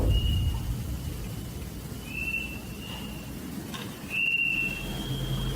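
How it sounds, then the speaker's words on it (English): Wind whistles thinly outside an abandoned church in the wilderness, making faint, high, wavering tones that come and go over a low rumbling background. "Inside the church, amongst the whistling in the wilderness"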